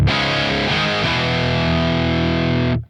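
Crunch channel of a Revv Generator 100R MKIII guitar amp: a loud, saturated distorted electric guitar chord rings out with a couple of changes, sustaining steadily before cutting off sharply.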